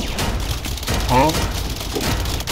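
Rapid gunfire rattles in a Rec Room military skirmish, a dense fusillade of close shots under shouting voices in a short burst.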